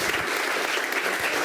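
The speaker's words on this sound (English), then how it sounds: "Round of applause." Applause for a leader being honored at a get-together, a steady wash of clapping from a small crowd that carries through without a break, fairly close and even in loudness.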